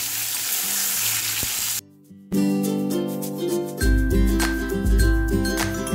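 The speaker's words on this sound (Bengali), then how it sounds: "এখানে বেগুনগুলো ভাজা হয়ে গেছে" Eggplant slices fry in hot oil, sizzling loudly and steadily up close, with a brief pause and some stirring and scraping in the pan.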